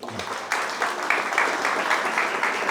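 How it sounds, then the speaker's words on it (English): A modest audience at a historical society talk gives a round of applause, a steady, moderately loud patter of clapping hands in a room, with a speaker's voice just before it begins. "So certainly a round of applause for Jack Sprouse."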